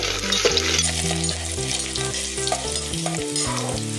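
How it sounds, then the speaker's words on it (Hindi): Finely chopped garlic cloves fry in oil with mustard seeds and cumin for a pav bhaji base, sizzling loudly and close while a spoon stirs and scrapes the pan, no speech. "अभी इसमें हम लहसुन की कलियां डालेंगे, बारीक कटी हुई। इसको अभी हम मिक्स करेंगे।"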